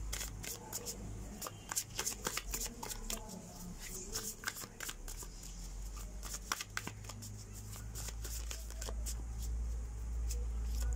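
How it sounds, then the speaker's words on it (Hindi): Tarot cards shuffled and flipped by hand in a steady run of soft riffling and slapping bursts, close by over a constant low background hum. "यहाँ पे कार्ड्स बहुत ज़्यादा आ रहे जा रहे थे, आपको उसकी भी आवाज़ आ रही होगी।"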